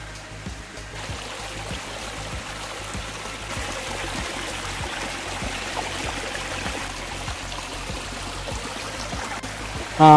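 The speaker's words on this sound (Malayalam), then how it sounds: "ഇപ്പം ചെറിയൊരു ചെറിയൊരു സ്ട്രീം പോലെയാണ് ഇപ്പോൾ അത് പോകുന്നത്" A small forest stream trickles steadily along a hillside path in Ambanad Hills, a modest flow where a seasonal waterfall runs in the rains; a continuous close wash of water with faint clicks.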